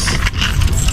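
Car keys for a minivan jangle close to the microphone, a loud burst of metallic clinking and rattling that lasts about a second.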